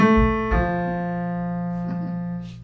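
Two sustained piano tones, one struck then another, ringing together and slowly fading, forming a bright harmonious interval; a faint breath near the end.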